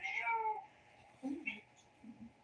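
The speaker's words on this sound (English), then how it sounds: "Wait, my cat is meowing." A cat meows a few times, short high cries with gaps between, faint against a quiet room while a person speaks softly.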